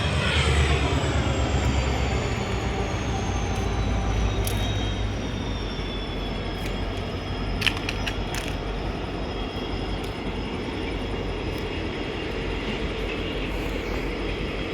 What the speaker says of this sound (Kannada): ಅಲ್ಲಿ ನೋಡಿದ್ರೆ ಟ್ರೈನ್ ಹೋಗ್ತಾ ಇದೆ